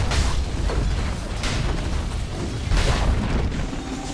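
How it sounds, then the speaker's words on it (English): Tower collapsing in Dota 2: heavy crumbling rumble with low booms and creaking debris, loud and sustained, with a couple of stronger impacts amid ongoing game sounds. "Dire's middle tower has fallen"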